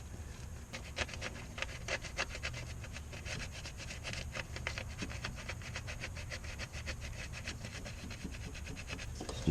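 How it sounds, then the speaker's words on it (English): A quiet, rapid, rhythmic scratching as a metal gasket mating surface on a Honda Odyssey engine is lightly scuffed clean before a VVT solenoid is refitted, with continuous faint strokes at close range. "just kind of very, very lightly clean up that mating surface"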